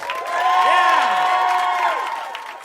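A live audience at a performance in the SiriusXM Garage cheering and whooping in a swelling burst of crowd noise, with high shouts riding over the roar before it fades.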